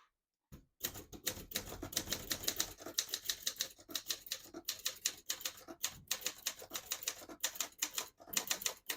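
A 1975 Olympia SM9 vintage portable typewriter types in quick, irregular bursts of sharp mechanical key strikes close by, with short pauses between the runs of keystrokes.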